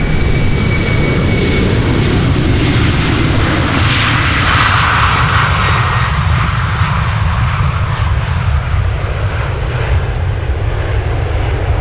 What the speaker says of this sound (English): and this is the Embraer.